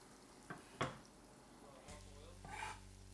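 Roughly chopped onions go into hot oil in a pot for Cape Verdean cachupa, giving a couple of stirring clatters and then a steady close sizzle of frying that carries on to the end.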